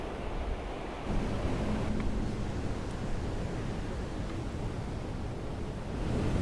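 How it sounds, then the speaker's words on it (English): Heavy ocean surf at Waimea Bay pounds continuously, a broad roaring wash of breaking waves with wind buffeting the microphone and no voices. "Yes, the waves are really going at it today"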